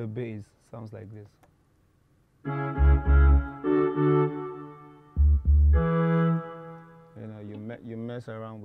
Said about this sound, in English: Bass sounds like this.